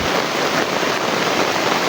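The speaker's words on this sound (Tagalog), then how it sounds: "sobrang lakas ng ulan tol" Heavy rain falls in a dense, even hiss that fills the whole moment, loud and close, with no voices.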